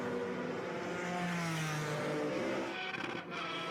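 Vintage race cars, including a Daytona prototype and a Mazda, race uphill at a motorsports reunion, their engines droning and revving at a distance in one continuous roar that shifts pitch, with no talking.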